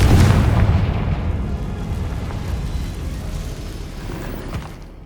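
Confringo fire spell blasting in Hogwarts Legacy on PS5, a loud booming explosion at the start that rolls into a long rumbling decay, heard alone with no talk.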